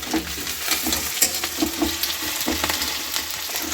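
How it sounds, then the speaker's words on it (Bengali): Onions frying in a pan for a home-cooked chicken curry, a steady hiss of sizzling oil with occasional scraping stirs, close and alone without talk. "আর কিছু পেঁয়াজ আমি ভেজে দিচ্ছি।"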